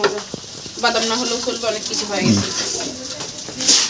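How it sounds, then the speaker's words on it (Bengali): Steady sizzling of eggplant frying in hot oil, close by, with voices talking over it and a faint clink near the end. "বেগুন ভাজা হয়ে গেছে"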